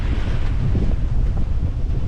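Strong gusts roar across the microphone aboard a sailboat running under a reefed Yankee with the main down in Force 8 conditions on the Sound of Jura, a loud, continuous buffeting wind with no voices.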